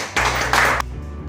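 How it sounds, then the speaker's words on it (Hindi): Audience applause at a ceremony comes as a short, dense burst of clapping that swells briefly, then drops away quickly, close and loud. "जोरदार तालियां।"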